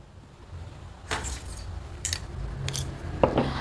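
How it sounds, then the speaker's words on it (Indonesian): Scissors cut through fabric in three crisp, close snipping strokes, each a short rasping burst, with a faint clink near the end over quiet room tone. "Sekarang, Ukti bisa gunting kainnya."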